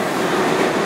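A New York subway train rolls into a station, a loud, close rumble of wheels and cars on the rails filling the whole short moment.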